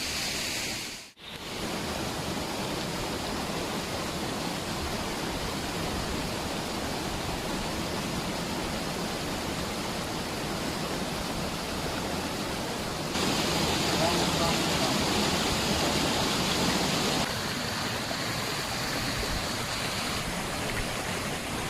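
A waterfall and flowing stream on a mountain trail on Uludağ pour out a loud, steady broadband rush that continues unbroken except for one momentary dip near the start.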